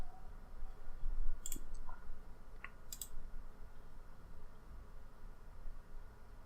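A computer mouse clicks a few times, sharp isolated clicks over a low background hiss, about two or three distinct clicks spaced apart while setting up Xbox recording on Windows 10.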